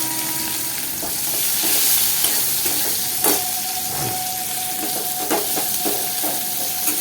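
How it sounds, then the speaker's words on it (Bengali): Onions sizzling and frying in hot oil in a pan for a Bengali fish curry, a steady loud crackle with stirring clatter and spatula scrapes, no voices. "তেলের মধ্যে আমি পেঁয়াজগুলো দিয়ে দিলাম।"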